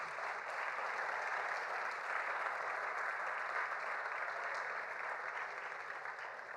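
A church congregation applauding during a sermon, a continuous, even wash of clapping from many hands, moderately distant and sustained for several seconds without pause.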